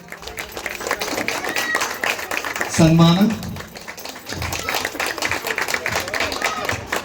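A crowd at a Rajyotsava felicitation breaks into sustained applause, many hands clapping in a busy, continuous wash, while a speaker's amplified voice carries over it.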